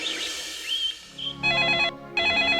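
A telephone rings twice in electronic bursts, the rings clear and fairly close after a moment of quieter background tones.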